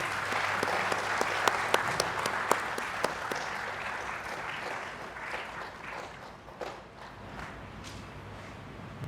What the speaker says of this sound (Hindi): पुनः तालियों की गूंज होनी चाहिए।